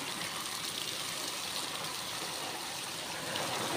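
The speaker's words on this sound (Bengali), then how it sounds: "বৃষ্টি না হওয়ার কারণে একটু পানি বেশি করে দেওয়া লাগতেছে।" Water is poured onto sacks where ginger is being grown, a continuous close trickling splash that holds steady throughout with no talking.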